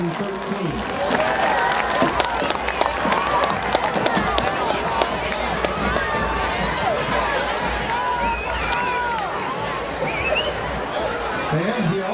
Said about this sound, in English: Let's give a big round of applause to our Caledonia Youth Flag and Rocket football teams for 2013